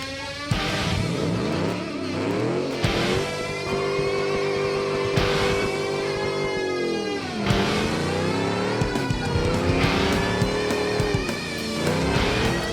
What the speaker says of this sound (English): This car is really easy to drift.